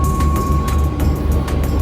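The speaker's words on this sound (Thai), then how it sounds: "บนรถไฟค่ะทุกคนน" Steady low rumble of a moving sleeper train heard from inside a berth carriage, with a constant hum and faint periodic clicks and rattles of the carriage.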